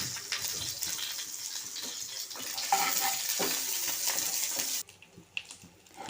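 Dried red chili, slit open, sizzles in hot oil with onion while tempering for a brinjal kadayal: a steady, fairly loud crackling hiss that cuts off abruptly near the end, leaving faint scattered pops.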